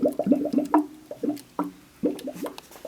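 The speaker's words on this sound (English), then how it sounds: "We pour 32 ounces of pistachio on that side." Pistachio frozen yogurt mix glugs and splashes into a frozen yogurt machine hopper in a quick series of close, gurgling pours with brief pauses between.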